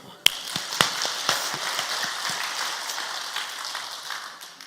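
A church congregation claps during a Sunday service, sharp scattered claps building into a brief burst of applause that tapers off, with a voice heard over it.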